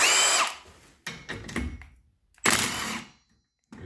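An impact power tool spins 15mm nuts off a catalytic converter on a four-cylinder non-turbo Ford Focus. Several loud, close bursts come with short pauses between them.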